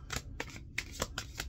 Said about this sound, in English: See, I didn't get that the first time I shuffled.